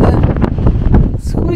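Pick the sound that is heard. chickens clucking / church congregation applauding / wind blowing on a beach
wind blowing on a beach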